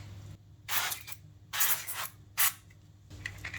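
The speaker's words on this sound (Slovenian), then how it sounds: "zdaj sem dala peki papir, ker jih bom posprejala s tem sprejom, da se ne primejo" Cooking oil spray cans spritzed onto baking paper lining a muffin tin for egg muffins: three close, sharp hissing bursts, each under a second, separated by short pauses.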